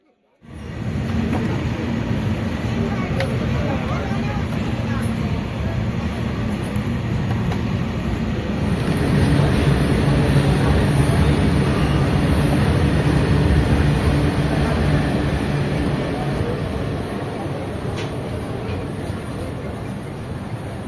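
The Kacheguda Express pulls away from Kadapa station at night. It makes a steady, loud rumble of wheels and carriages that swells slightly midway and carries on for the whole stretch.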